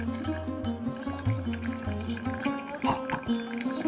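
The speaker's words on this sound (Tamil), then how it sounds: "தண்ணி விட்டு நம்ம வந்து இதில் சேர்த்துடலாம்" Water pours into a cooking pot holding a ground paste and salted boiled pumpkin, a close gurgling fill with uneven splashes and drips over four seconds, under no talk.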